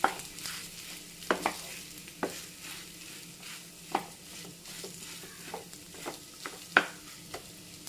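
Aloo paratha filling ingredients being mixed in a pan, a quiet background with repeated sharp scrapes and taps of a spoon against the pan at an uneven rhythm.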